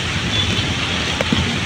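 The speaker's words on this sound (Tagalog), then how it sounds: "Malakas yung hangin, oh." Strong typhoon wind buffeting the microphone outdoors near street vendors during sudden bad weather: a loud, constant broadband roar and rumble with no clear gusts, lasting throughout with only faint background sounds.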